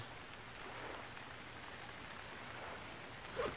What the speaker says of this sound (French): Donc je vais rebaisser le son de la pluie au montage,